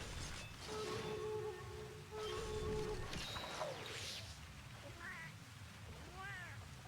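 A cat companion in Monster Hunter Portable 3rd during a Silver Rathalos hunt gives a few short rising meows amid game effects, with a voice murmuring faintly underneath.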